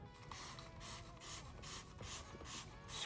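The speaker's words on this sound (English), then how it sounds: "Gonna shake it up really well and then spray it on the," Waterless wash and wax sprayed onto a car engine bay from a trigger bottle: a run of about six rhythmic hissing spray bursts, close and moderately loud, with no talking.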